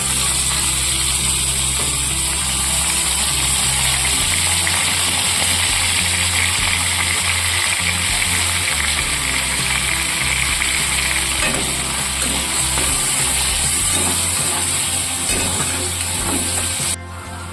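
Boiled soya chunks and sliced onions frying in white cooking oil for soya biryani, a loud, steady, close sizzle and crackle that runs unbroken without any talking.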